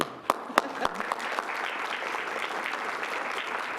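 A crowd at a Kern County Board of Supervisors meeting applauds a retiring county employee, opening with a few sharp separate claps that quickly swell into steady, dense clapping.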